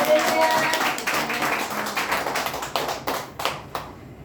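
Congregation at a Wednesday church service clapping together for the volunteers and attendees; a burst of mixed applause fading into a few scattered claps, with some lingering tones at the start.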